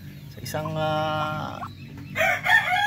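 Three darag breeder hens in a shared laying coop give a drawn-out, harmonic crow-like call followed by brighter clucks, heard close, with a person talking nearby.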